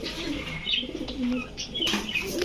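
Pakistani fancy pigeons cooing at a bird market, a steady murmur of soft coos with occasional chirps and wing flutters close by, continuing without pause under a busy background.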